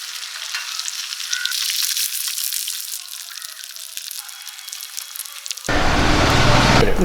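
Chicken pieces frying in hot oil for Kerala-style chicken kondattam: a continuous crackling sizzle that swells louder and fuller toward the end, with a low rumble added.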